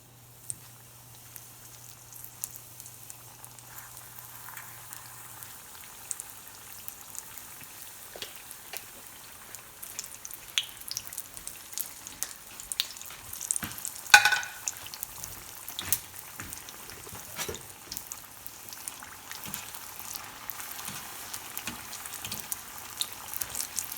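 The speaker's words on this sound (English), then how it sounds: "I'm going to add it into the oil again and cook it again for a couple more seconds" Ajwain leaf pakoda fries a second time in hot oil with a faint, steady sizzle and scattered small crackles and pops, heard alone.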